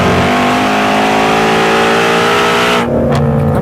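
A Ford Mustang Shelby GT350 roars loudly and up close in 3rd gear through a corner, its exhaust note steady and strong at around 4,000 rpm before easing slightly near the end.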